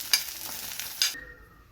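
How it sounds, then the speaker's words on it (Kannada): Onion being stirred in a hot pan gives a close sizzling hiss with a couple of sharp scraping clicks, then the sound drops away abruptly after about a second. "ಗೈಸ್ ಇವಾಗ ಪ್ಯಾನ್ಗೆ ಆನಿಯನ್ ಹಾಕ್ಕೊಂಡು ಅದನ್ನು ಲೈಟಾಗಿ ಫ್ರೈ ಮಾಡ್ತಾಯಿದ್ದೀನಿ."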